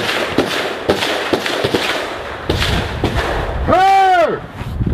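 Gunfire during the war in Donbas: several sharp, distant cracks at irregular intervals over wind noise, with a voice shouting over it and a rising-falling whistling sound near the end.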